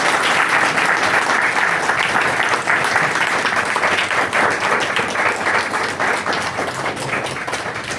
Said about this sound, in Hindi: चलिए ताली बजाइए उनके लिए।